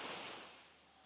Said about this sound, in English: I'm hearing beautiful waves, very soothing.